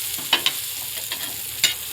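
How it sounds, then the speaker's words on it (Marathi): Flatbreads cooking on a hot griddle give a low, steady sizzle, with a few brief scraping clicks from a spatula as they are turned, close and quiet, with no talking. "सगळ्या न्यूट्या आता मी टाकून दिल्यात तव्यात आणि आता पलटी करून घ्यायचं आहे आपल्याला"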